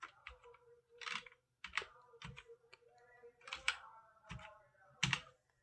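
Keys on a computer keyboard are pressed in short irregular clusters to enter a captcha code, quiet and close in a calm room, with a faint steady hum underneath and no speech.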